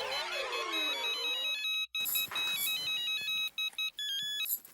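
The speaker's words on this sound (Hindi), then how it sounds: "किसी और का भी फोन बज रहा है।" A mobile phone ringtone sounds in a household comedy scene, its bright repeating electronic melody looping several times after a short burst of music, loud and clear with no talk over it.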